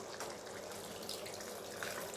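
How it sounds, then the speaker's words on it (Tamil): Water pours in a soft, steady trickle as a little is added to a simmering masala paneer gravy, faint and continuous with no talking. "அதனால் கொஞ்சமாக தண்ணி சேர்க்க போகிறோம்"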